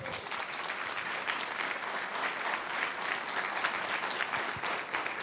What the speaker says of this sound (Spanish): Dame un aplauso bien grande al Señor, hermano.